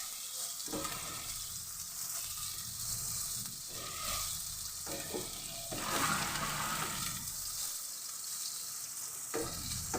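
Chopped onions sizzle in a pan with cumin seeds for a chicken and white chickpea curry. The quiet, continuous frying hiss runs throughout, with soft stirring scrapes and no talking.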